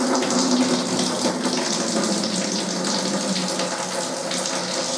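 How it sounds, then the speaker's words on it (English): Home-brewed Geordie Winter Warmer beer running from a bottling tap, a steady close gush of pouring liquid lasting the whole stretch with no talking. "So let's get that beer flowing."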